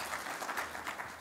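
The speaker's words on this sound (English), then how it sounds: "Y'all give her a big round of applause" Audience applauding Martha Allen, who runs a statewide charity, at a talk on food security and agriculture; steady, soft clapping that sounds somewhat distant, with no voices over it.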